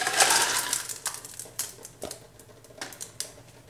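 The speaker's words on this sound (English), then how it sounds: "And then add more ice cubes in." Ice cubes dropped into a KD5 hydrosol maker during peppermint distillation: a rapid rattling clatter at the start, then several separate sharp clinks that thin out over a few seconds.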